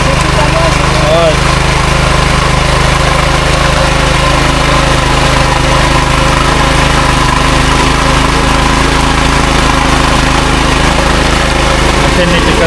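A power tiller engine churns mud in a flooded rice field during rain, its steady mechanical drone running loud and continuous throughout, with voices talking over it.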